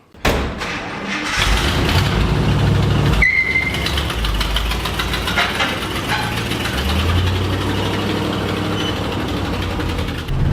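An International 1110 truck's engine cranks briefly, catches with a loud roar, then settles into a steady, rough idle that runs on close by.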